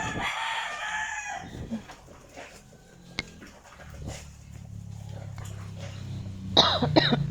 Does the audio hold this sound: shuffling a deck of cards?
no